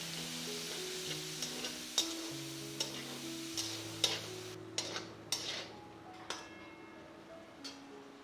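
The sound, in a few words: frying chopped onion in oil, stirred with spatula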